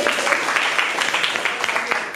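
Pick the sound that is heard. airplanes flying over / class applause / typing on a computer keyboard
class applause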